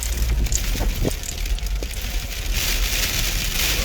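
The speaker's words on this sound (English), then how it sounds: "Oh my God, hail." Hail falls outdoors after rain, a loud, steady clattering patter of many small impacts with scattered sharper hits throughout, with no talk.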